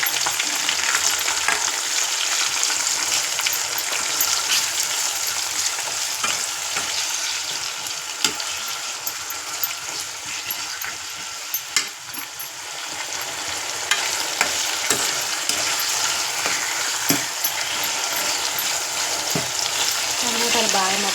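Chopped tomatoes fry in a pan for a Telugu curry, a constant close sizzle and crackle with occasional stirring scrapes, running on for about twenty seconds.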